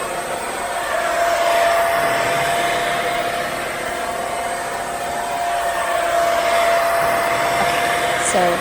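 A Rug Doctor carpet cleaning machine filled with a Tide Pod mixture runs continuously nearby, a steady loud motor whine with a sustained tonal hum and broadband hiss that holds throughout without pauses.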